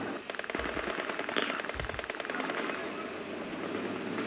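A .50 cal heavy machine gun firing in the Company of Heroes 2 video game: rapid, rhythmic bursts of gunfire with sharp repeated reports, fairly close, plus a few heavier thumps mixed into the battle noise.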